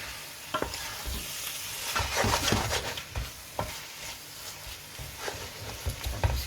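Lamb pieces being stirred into a sizzling spice and onion mixture for a lamb curry with potato, with steady frying crackle and scraping stirs, close and moderately loud, no talking.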